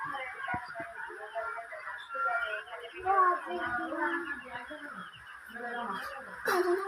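Chickens cluck in short, repeated bursts at close range, mixed in with ongoing human talk, with a brief louder call near the end.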